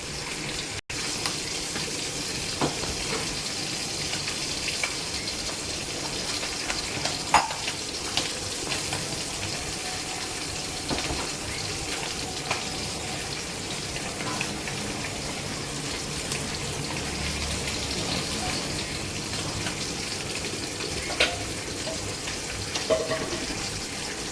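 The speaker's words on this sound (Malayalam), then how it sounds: "നമുക്ക് കഴുകി വാരി വെച്ചിരിക്കുന്ന മീനിട്ട് കൊടുക്കാം" Fish added to a boiling curry paste in a pot, a steady bubbling simmer with soft sizzling and watery noise running throughout, fairly quiet and without talk.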